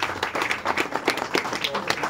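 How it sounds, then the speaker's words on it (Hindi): An audience claps at a district-level award ceremony as a winner is given first place. The applause is a dense, steady patter of many hands, with voices talking over it throughout. "एक बार जोरदार तालियां बजाएं।"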